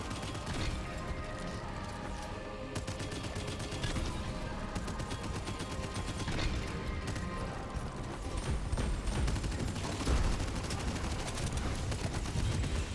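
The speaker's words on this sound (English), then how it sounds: "I'm gonna use all my grenades." Grenades thrown and exploding during a boss fight in the action roguelite game Abyssus: a dense, continuous barrage of repeated bangs and gunfire-like bursts over a loud game soundtrack, no speech.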